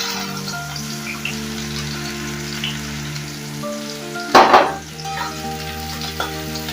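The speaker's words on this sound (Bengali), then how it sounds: "আমি পেঁয়াজগুলো বেরেস্তা ভেজে নেব" Sliced onions frying in very hot oil at home for egg biryani, a steady close sizzle with a low tonal hum underneath and one louder burst of crackling midway as they are stirred, no voices.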